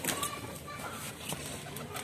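Pigeons just let out of a net cage, with faint coos and soft wing flutters in an outdoor setting, quiet and continuous, with someone talking over them.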